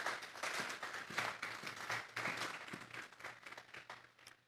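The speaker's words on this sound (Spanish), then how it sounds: "Vamos a darle un fuerte aplauso pues al Señor esta tarde." Church congregation clapping during a Spanish-language sermon, uneven rhythmic claps with some distinct individual hits, fairly faint and distant in a reverberant hall, a low hum running underneath.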